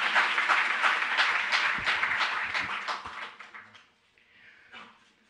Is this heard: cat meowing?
no